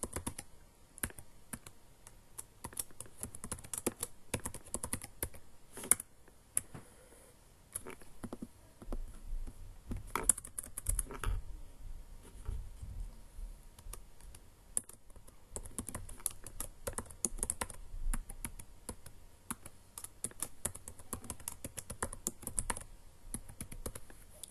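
Fingers tap out a password on a computer keyboard, an irregular stream of close, light key clicks with brief pauses between bursts.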